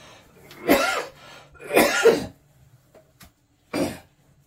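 Three harsh coughs, close and distinct, separated by short quiet pauses.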